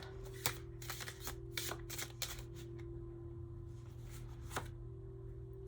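A deck of tarot cards being shuffled by hand, with a run of close, crisp riffling bursts and slaps over a steady low hum, no talk.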